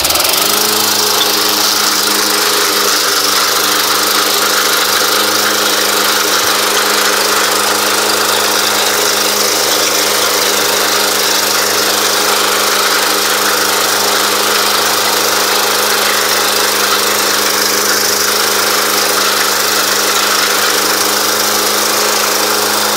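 Exmark 21-inch commercial walk-behind lawn mower running steadily outdoors, a loud continuous engine drone with a low humming tone and no talking, holding an even level throughout.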